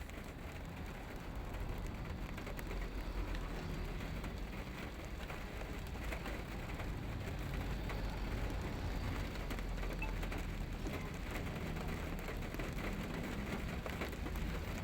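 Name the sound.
heavy rain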